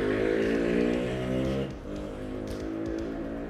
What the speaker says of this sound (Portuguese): essas motos aí, cara.